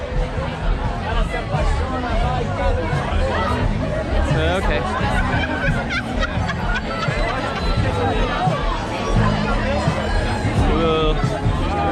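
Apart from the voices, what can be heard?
festival crowd chatter at Lusofonia Festival, Macau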